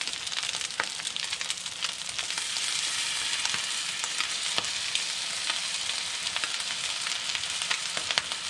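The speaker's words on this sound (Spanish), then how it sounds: "Ahora vamos a revolver bien." Pork fried rice with soy and oyster sauce sizzles steadily in a hot pan, a dense, even crackle with occasional scrape and stir noises, close up and uninterrupted by voices.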